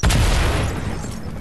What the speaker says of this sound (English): we can explode through the tower from like two hits